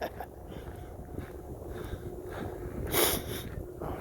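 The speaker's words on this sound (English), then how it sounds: "I got deep sniffles because of the exercise and the weather" Sniffling from a cold while out walking in cold, windy weather, several short nasal sniffs over wind noise, with one louder, sharper sniff partway through.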